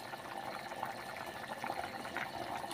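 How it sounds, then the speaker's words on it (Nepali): A pot of vegetable curry boils with a continuous, moderately loud bubbling and gurgling simmer, with no pauses. "अब तरकारी उम्लिसक्यो"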